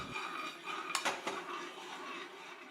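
Gravy being stirred in a pot as it thickens off the boil, with a soft bubbling bed and a few sharp clinks of a utensil against the pot near the middle, no talk.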